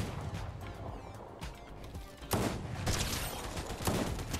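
A pump shotgun firing in the video game Fortnite, with a few heavy blasts spaced over a couple of seconds amid game noise and no talk.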